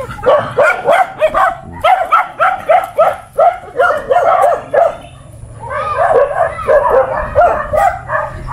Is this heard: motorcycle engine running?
no